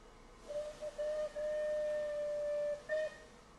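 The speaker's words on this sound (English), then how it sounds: "blow the whistle." Steam locomotive whistle in Train Simulator 2020 on a Merchant Navy class engine: a few short toots then one long sustained blast and a final short toot, faint and alone.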